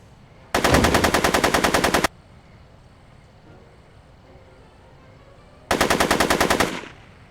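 Gunfire in the Back to the Future video game arrives as two loud, rapid automatic bursts of about a second and a half each, separated by several seconds of quiet background.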